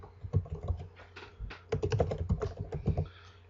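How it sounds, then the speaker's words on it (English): Fingers type a search query on a computer keyboard, a quick run of close, light key clicks with a brief pause partway through. "I'm going to type in Wolcott"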